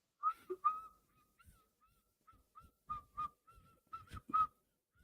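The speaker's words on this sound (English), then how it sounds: "I don't know what you're whistling." A person whistles a meandering tune in short, breathy phrases, near and fairly quiet, with small pauses between notes and no talking.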